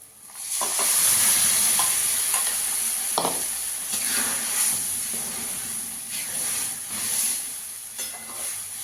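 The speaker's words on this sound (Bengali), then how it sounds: "তো পালং শাক বাটাটা দিয়ে দেবো।" Spinach paste goes into a hot pan and sets off a loud burst of hissing sizzle, which eases into steady frying broken by several stirring scrapes.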